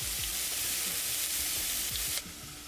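A rice mixture with turmeric sizzling and frying in a pan, a steady close hiss with faint stirring clicks throughout.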